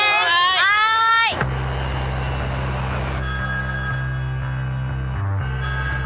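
An old rotary-style smart telephone rings loudly with a bright trilling bell for about a second, then a lower electronic tone holds steadily as other speech-free sounds fill the rest.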